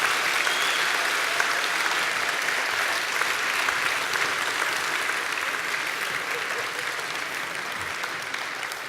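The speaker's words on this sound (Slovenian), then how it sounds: "Dajmo en velik aplavz za našo gledališko skupino." A large audience gives a theatre group a big ovation at a 50th anniversary celebration of a sheltered workshop centre, with dense, continuous clapping that stays loud and gradually eases off.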